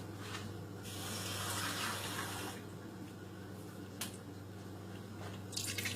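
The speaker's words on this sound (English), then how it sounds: "I'm going to add still a little bit more water," Water poured a little at a time into a pot of thick carne guisada beef stew, giving a steady wet splashing and squishing over a low hum, with a brief clatter near the end.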